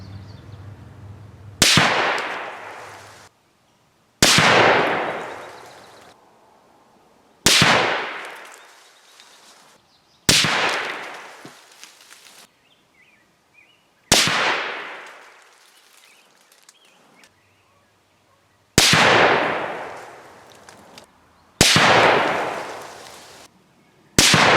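Savage 110 Tactical 6.5 rifle firing 123 grain SST ammunition at an outdoor range: eight sharp, loud shots spaced a few seconds apart, each with a decaying echo tail, no talk.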